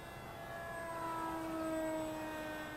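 A model ICON A5 airplane flies overhead with a steady, faint motor whine whose pitch slowly drops as it passes, alone outdoors with no voices.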